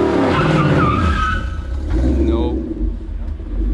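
A Ford Mustang GT with a limited-slip differential doing a burnout, both rear tires spinning: loud, continuous roaring engine with tire squeal and skidding rising over it, close by, with people talking through it.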